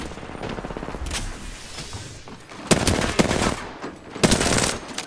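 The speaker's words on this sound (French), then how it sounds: "J'essuie des tirs." Automatic weapon fire in the Apex Legends video game comes in rapid bursts, with several dense volleys and short pauses between them, loud and close, with no talk.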